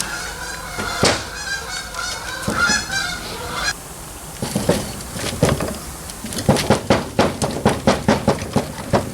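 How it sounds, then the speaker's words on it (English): A flock of geese honking loudly and repeatedly, harsh calls overlapping, building into a rapid run of sharp honks toward the end. "Geese are getting angry, man."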